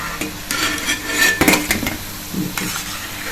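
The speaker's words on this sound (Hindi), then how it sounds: "इसको किनारे करके निकालेंगे, जिससे इसका एक्स्ट्रा तेल निकल जाए" Fried taro pieces are scooped from a pan of hot oil with a metal utensil, giving soft sizzling under repeated scraping and clinking of metal against the pan, close and fairly loud.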